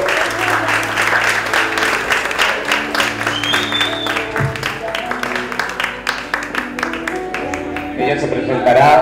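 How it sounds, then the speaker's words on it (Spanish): An audience claps in sustained applause, fairly close, while a person talks over it with music underneath. "Un fuerte aplauso para ella,"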